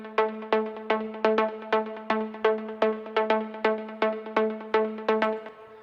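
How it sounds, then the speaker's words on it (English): A Serum synthesizer pluck from a preset pack plays a steady pattern of short, bright plucked notes, about a dozen evenly spaced hits with quick decays, standing alone without any voice. "Then I added this pluck sound."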